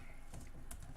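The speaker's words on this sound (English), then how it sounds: "I'm just quickly typing a few things in" Quiet clicking of a computer keyboard being typed on, a few soft scattered keystrokes at close range under low background noise.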